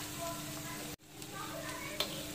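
Garlic, bird's eye chili and onion sautéing in a pan for beef fried rice, a steady broadband sizzle with stirring scrapes, briefly cut out by a short dropout midway.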